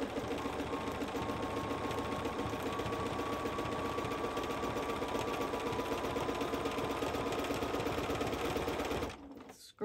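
A sewing machine with a free-motion foot running fast and steady, free-motion scribbly stitching along the edges of fabric leaves, a close continuous mechanical whir that stops abruptly near the end.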